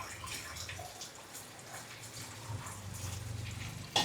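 Liquid, likely rasam, pours into a tumbler in a home kitchen as a steady, soft watery splash continues throughout, close and moderately loud with low background hum.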